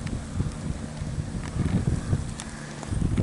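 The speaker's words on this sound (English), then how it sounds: "It's getting a little bit breezy" Gusty wind blows across an outdoor microphone in a shaded spot, a steady low rumble with soft buffeting swells and faint scattered clicks, with no one talking.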